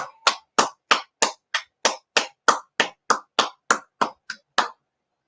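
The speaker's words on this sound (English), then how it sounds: "Let's clap it up." A class claps in unison, sixteen sharp, evenly spaced claps in a steady rhythm, loud and close, with silence between them and no talking.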